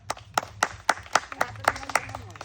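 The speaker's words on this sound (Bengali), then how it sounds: "হাততালি হবে, হাততালি সবাই।" A group of spectators at a lively outdoor game event claps in a steady unison rhythm, about eight crisp beats close by, with voices murmuring underneath.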